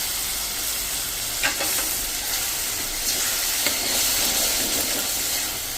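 Tomato puree hits a pan of cooked peas and onions with a steady, close sizzle and hiss, with a few soft stirring scrapes and no talking.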